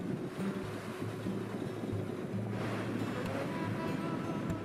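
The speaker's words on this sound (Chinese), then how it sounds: "风浪很大" Strong wind and surf roll over a fine-sand beach on the north shore of Prince Edward Island, a steady loud roar of waves and gusts running throughout with no voices.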